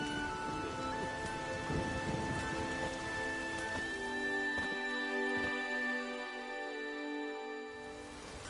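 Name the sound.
rain in the video game The Witcher 3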